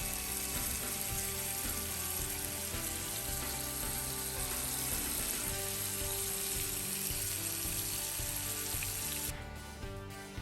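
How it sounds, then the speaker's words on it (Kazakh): Flour-coated meatballs fry in a pan, giving a loud, steady sizzle and crackle of hot oil that runs unbroken from start to finish. "тефтелиларымызды ұнға аунатып аламыз да, табада қызарғанша қорып аламыз."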